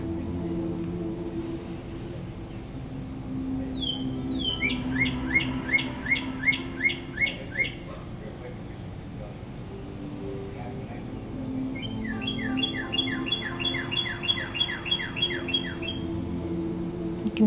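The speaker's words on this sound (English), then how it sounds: "You can hear my lovely birds, maybe." Pet birds chirp indoors in two bursts of rapid, bright, repeated tweets, the second longer and steadier, set against soft low background sound in a quiet room during a gentle yoga session.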